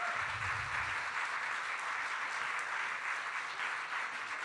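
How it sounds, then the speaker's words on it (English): Audience applause at the Jaipur Literature Festival, a dense, continuous wash of many hands clapping at moderate distance, holding steady throughout. "Ladies and gentlemen, a round of applause for Fintan O'Toole."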